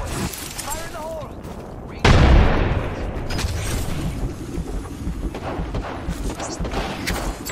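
A grenade blast in the video game Apex Legends hits with a sudden loud boom that decays into a rumbling tail, followed by scattered gunfire and game noise while players talk.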